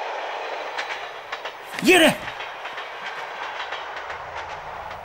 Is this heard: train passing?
yes